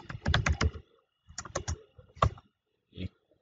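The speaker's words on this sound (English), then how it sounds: "Okay, so let's type" Typing on a computer keyboard: bursts of close, crisp key clicks in three short runs separated by pauses, ending with a single soft tap, with no voices.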